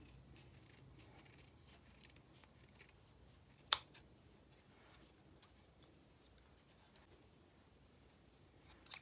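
Scissors trim a tassel for a wooden bead garland, a quiet room with faint snips and rustles and one sharper cut partway through.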